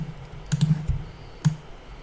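Computer keyboard typing while entering text in Inkscape: a few close, distinct key clicks in short clusters with pauses between, quiet and alone without talk.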